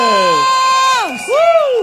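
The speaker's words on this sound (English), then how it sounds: "Give them a round of applause!" Crowd at a Singapore general election rally for Sembawang cheering loudly, with high shouts and whoops rising and falling in a short close burst.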